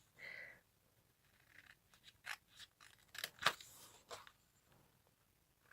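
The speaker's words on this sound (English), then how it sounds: "So I'm just using my scissors to cut that." Scissors snip through paper during a card-making session with stamps, giving a few sharp, close cutting sounds spread over several seconds, with no talk.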